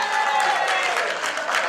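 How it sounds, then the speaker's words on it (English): A brief burst of applause from an audience at a Mother's Day and International Women's Day fundraiser event, steady clapping heard fairly quietly without voices. "give her a big round of applause"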